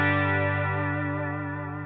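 An electric guitar note through a delay effect with the feedback turned up rings out as a sustained, gradually fading tone whose repeats detune and blur as they pile up.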